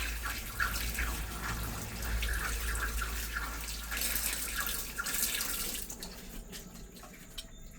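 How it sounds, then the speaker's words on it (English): Oxtail pieces are rinsed under a running kitchen tap, a steady close splashing stream with irregular spatters from the meat being turned, easing off slightly near the end. "So now we're going to rinse this thoroughly as well"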